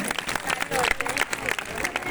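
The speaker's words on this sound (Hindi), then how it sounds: "जैन धर्म के इस समर्पण पर एक बार जोरदार तालियां आप बजा दें" An audience at a staged performance of Maina Sundari applauds a tribute to Jain dharma, brisk crowded clapping close by, with voices mixed in throughout.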